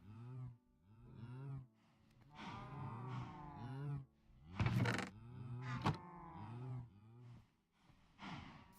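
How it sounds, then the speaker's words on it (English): Cows mooing in modded Minecraft, with a series of loud, drawn-out moos overlapping one another in steady succession, each low call rising and falling, and a couple of sharper noisy bursts in the middle. "Alright, shut up, cows."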